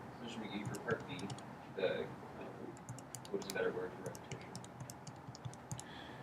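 Fast typing on a computer keyboard, a quick run of soft clicks and key taps close by, with faint voice sounds in the background.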